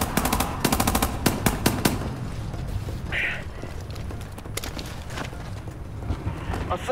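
Rapid machine-gun bursts from Wolfenstein: The New Order rattle in quick clusters at the start, then continue as scattered shots and battle noise under an indistinct voice, fairly loud and close.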